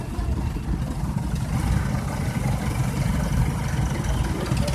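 A restored Nuffield tractor's engine runs steadily at a tractor parade during a Sheffield steam rally, a constant low rumbling drone with outdoor crowd noise and no clear speech.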